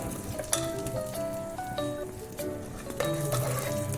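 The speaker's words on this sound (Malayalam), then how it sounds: "കുറച്ച് കറിവേപ്പില ഇടുക." Curry leaves dropped into a simmering pot of Kerala erissery, a coconut-based curry, crackle and sizzle steadily with faint stirring, under soft background music.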